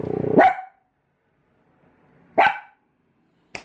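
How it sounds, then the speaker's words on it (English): A female dog named Peanut barks in her sleep: three short, muffled woofs spaced a second or more apart, close by, with silence between them and no talking. "she'll bark in her sleep"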